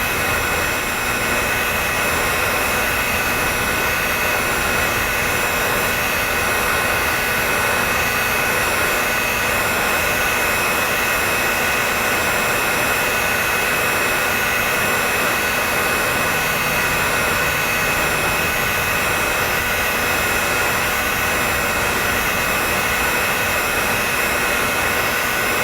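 A torch heats a golf club shaft to free it from the head, giving a loud, steady, close roaring hiss that holds without break throughout.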